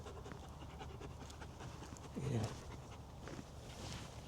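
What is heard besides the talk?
dog panting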